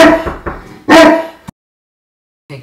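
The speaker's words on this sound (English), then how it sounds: "Sorry for my dog right there." A dog named Sham barks indoors, close and loud: a handful of sharp barks and yips in quick succession, then a pause and one more short bark.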